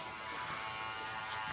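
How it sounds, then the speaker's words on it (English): An electric hair clipper cuts hair during a short men's fade haircut, giving a faint, steady buzz that holds evenly throughout, with no voices. "that noise that the clipper makes, that tinging noise, which I absolutely love"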